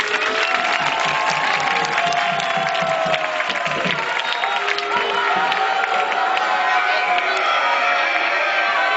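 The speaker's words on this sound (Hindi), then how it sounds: "तालियां बजाएं।" Audience at a devotional Hare Krishna performance clapping and cheering in a steady, dense wash of applause with shouts and crowd noise throughout, loud and continuous.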